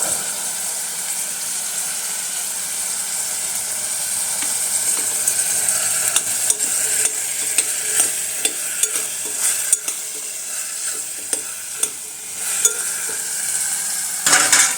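A pot of chilli and spices for veg pulao being stirred, with steady scraping and sizzling throughout and a few sharper clinks of the spoon against the metal, close and without talk.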